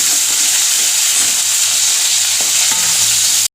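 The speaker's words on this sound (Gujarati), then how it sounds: "એને પણ સરસ સાતરી લઈશું." Onion and fresh ginger-chilli paste sauté in hot oil for a dal fry, giving a loud, steady, close sizzle with occasional stirring scrapes before the sound cuts off abruptly.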